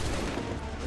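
Musket volley in Assassin's Creed 3, a dense, loud burst of massed gunfire filling the whole short moment with rumbling noise and no voices.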